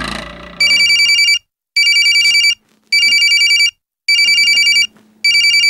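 A telephone rings in repeated electronic bursts, five rings separated by short pauses, loud and close, with a brief low murmur at the start.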